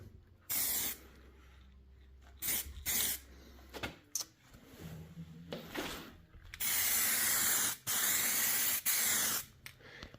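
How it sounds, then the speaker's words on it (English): Repeated bursts of aerosol spray hissing onto metal trailer parts, some short and some long and steady, separated by quiet gaps and faint handling clatter. "And then I'm gonna come over here and spray these."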